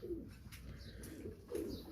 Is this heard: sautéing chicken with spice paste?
no